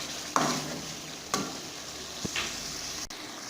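Chicken meat cooking in a pot for dal gosht, giving a soft steady sizzle with a few brief stirring clinks and scrapes of a spoon; no voices.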